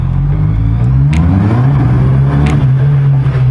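Honda CB650R motorcycle engine held at a steady, loud rev during a traction control demo, a continuous close-up drone that holds without speech.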